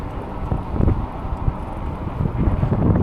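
Loud, continuous wind buffeting the microphone while riding an eBike on a commute home in Orange County, a rumbling low roar with gusty swells and no clear talk.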